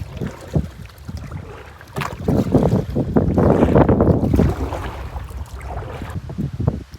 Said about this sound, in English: the wind is picking up like crazy